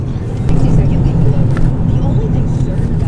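A car driving along backwoods roads gives a steady, close, low rumble of engine and road noise, with a couple of faint knocks and bumps along the way.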